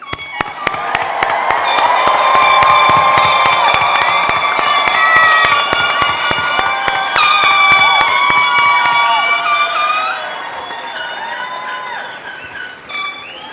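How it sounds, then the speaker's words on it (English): A large commencement crowd cheers and applauds loudly for graduates, with sustained clapping, whoops and high shouts over ringing air-horn-like tones, swelling and then tapering off near the end. "give a loud, proud round of applause for our graduates"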